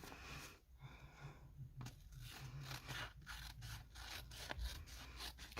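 Scissors trimming a paper picture of Harry and Luna for a composition glue book, a series of close, crisp snips and paper rustles in an uneven rhythm.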